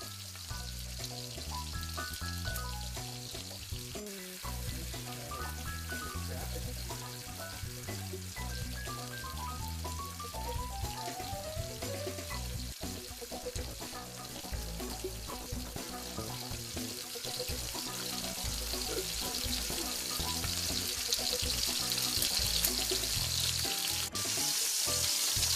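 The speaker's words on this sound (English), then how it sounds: "We're going to tilt the pan, pool the butter in one portion of the pan, and then flip that onto our steak." Hot butter sizzling and spattering in a pan while basting T-bone, NY strip and tenderloin steaks, a steady, dense frying hiss that continues for the full stretch and grows slightly louder toward the end.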